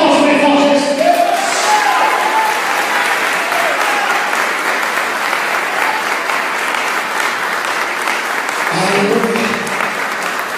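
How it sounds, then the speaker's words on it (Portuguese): Loud, sustained applause from a church congregation during an Easter sermon, a dense wash of clapping lasting throughout, with voices mixed in near the start and again toward the end. "Se você quer um aplauso, bem forte, recebeu."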